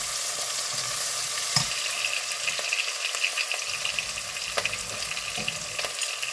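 Vegetable pulao is stirred in a pan with a continuous, moderate frying hiss and sporadic light knocks and scrapes from the spoon, with no voices.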